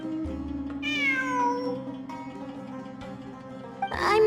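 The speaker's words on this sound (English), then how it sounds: "It really is a cat." A cat in Genshin Impact gives a clear, rising-then-falling meow over a steady low ambient game drone, followed a few seconds later by a second, shorter meow at the end; no one speaks.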